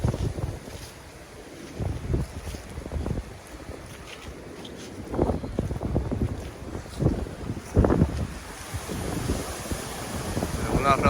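Strong wind gusts buffeting a hot tent at a backyard campsite, a steady roar swelling into heavy rushing surges and flapping fabric, with a voice heard now and then.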